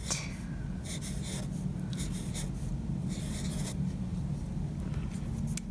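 Pen handwriting in cursive on paper, a steady soft scratching with brief strokes and pauses over a low constant background hum, close and quiet, with no talking.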